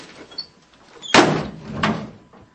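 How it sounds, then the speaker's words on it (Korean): A door slams shut in a Korean audiobook sound effect: a sharp, loud bang followed by a second thud and a fading rattle, with no voices. "문이 쾅 닫혔다."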